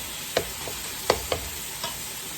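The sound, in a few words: seasoned meat for spaghetti browning in a pan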